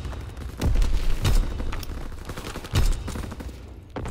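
Heavy artillery booms in Call of Duty: WWII thud in deep, loud blasts a couple of times amid rattling gunfire and rumbling explosions.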